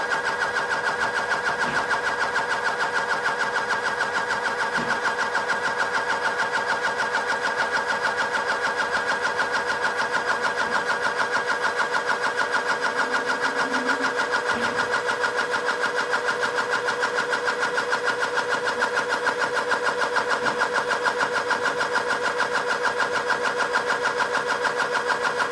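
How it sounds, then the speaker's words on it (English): Pressure pump on a calibration kit preset to stop at 300 psi, running steadily as a constant mechanical hum with a few faint clicks, loud and close, with no talk. "The pump has already been preset to stop at 300 psi."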